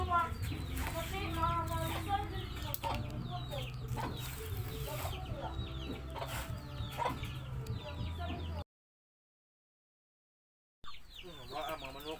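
Chickens cluck and chatter steadily at a coop, close and busy, with people talking over the birds and a short silent dropout near the end.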